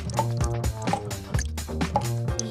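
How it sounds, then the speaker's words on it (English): Water drips through the stacked cups of a homemade water clock set on a garden seat outdoors, a few close, hollow plinks landing in a steady, ticking rhythm. "And it's dripping nicely."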